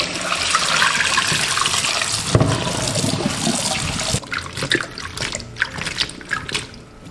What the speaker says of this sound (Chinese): 把泡好的鸡中菌清洗干净